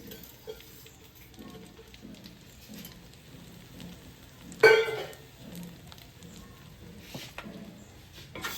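Rice being sautéed in ghee in a pan for biryani produces a faint, soft crackling sizzle, with one brief louder scrape of stirring around the middle.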